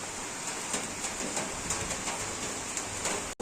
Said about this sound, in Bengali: একভাবে জল বৃষ্টি সকাল থেকে ধরেছে আর থামেইনি